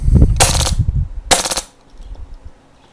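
Two short, loud bursts of automatic gunfire from a gun set to shotgun mode, each a rapid rattle of shots lasting about a third of a second, separated by a brief gap over low background rumble.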